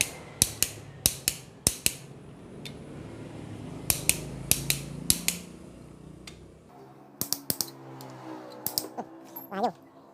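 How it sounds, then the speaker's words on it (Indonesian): Ratcheting clicks from a torque wrench set to 10 kg while tightening the soft cylinder head bolts on a Panther 2.5 engine, a fast cluster of sharp close clicks repeating in bursts with brief pauses and faint mechanical clatter between. "Kita akan setel dari kunci torsi di maksimal 10 kg karena dari baut silinder head di Panther ini agak lunak."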